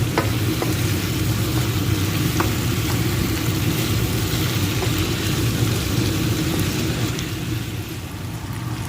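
Flour-coated chicken pieces fry steadily in a pan, a dense continuous sizzle with faint crackles and occasional light stirring clicks, loud and close throughout with no voices.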